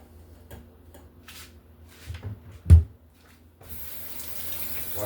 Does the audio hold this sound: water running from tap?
yes